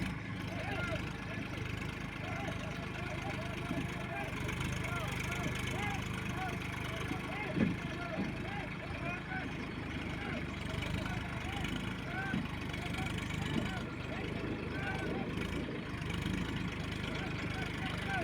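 A tractor hauling a heavily loaded trailer labours with a steady, low, rumbling drone that holds without breaks, while people talk over the engine.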